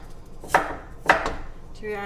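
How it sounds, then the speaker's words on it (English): Onions being chopped with a kitchen knife while making soup: two sharp, close blade strikes against a cutting board about half a second apart, with a faint tonal sound near the end. "while I finish chopping up the onions"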